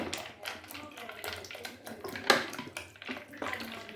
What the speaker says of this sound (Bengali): আর দিয়ে নেব ঠান্ডা জল। দিয়ে নিচ্ছি একটু জল